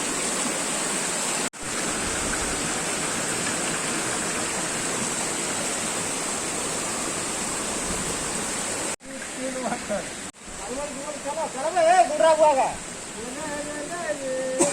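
The Asurkhol Second Waterfall in Keonjhar pours in a steady, loud, broadband rush of falling water that fills most of the scene, and someone speaks over the roar near the end.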